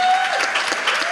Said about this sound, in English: So give a round of applause for David.